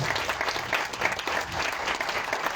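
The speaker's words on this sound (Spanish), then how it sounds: "denle un aplauso fuerte al Señor" Applause from a church congregation at a baptism service, steady and dense clapping that fills the room without a break.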